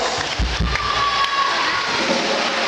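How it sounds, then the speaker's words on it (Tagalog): A church congregation applauds and cheers together at an El Shaddai anniversary healing service in Muntinlupa City: a dense, steady wash of clapping and crowd noise that holds loud from start to finish. "Palakpakan natin ang Diyos."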